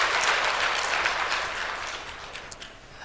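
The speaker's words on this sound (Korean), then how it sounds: "하나님께 영광의 박수로 영광 돌리겠습니다." A church congregation applauding together, a broad steady wash of clapping that fades gradually over a few seconds with no talk.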